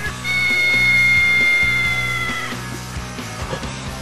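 A cartoon cat meows in a drawn-out, wavering cry up high, over a busy animated soundtrack with rhythmic background tones.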